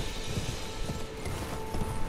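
Horse hooves clip-clop in a steady rhythmic gait in the Elden Ring game, several horses moving together, beneath a dense wash of ambient game sound.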